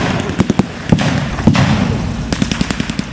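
A heavy top-mounted machine gun fires in bursts of sharp cracks at a WW2 battle display at Fortress Wales, echoing outdoors over a continuous background rumble.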